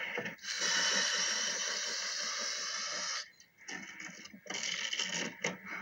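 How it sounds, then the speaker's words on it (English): Aerosol spray paint hisses steadily through a stencil to put a logo on a surface, one long continuous burst followed by several shorter bursts, close and loud with no talking. "Spraying on the logo takes only a few minutes"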